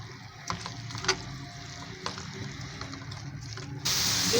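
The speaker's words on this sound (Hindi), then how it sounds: "अब मैं इसमें प्याज डाल दूँगी।" Sliced onions drop into hot oil for bhindi with besan, a steady loud sizzle and hiss bursting up near the end after a few faint clatters.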